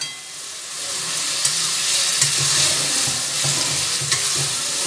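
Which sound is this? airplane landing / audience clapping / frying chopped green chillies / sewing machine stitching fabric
frying chopped green chillies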